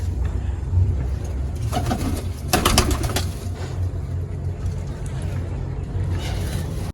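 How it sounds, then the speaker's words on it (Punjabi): Domestic pigeons, pairs kept by a hobbyist, released into the open, with bursts of wing flapping and soft cooing against steady outdoor background noise, the loudest flutters landing a little past the midpoint. "ਭਈ ਆਪਾਂ ਕਬੂਤਰ ਛੱਡਦੇ ਆ"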